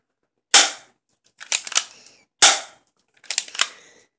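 Toy M1911-style pistol fires two sharp, loud cracks about two seconds apart, each followed by a quick cluster of mechanical clicks and clacks as it is reloaded.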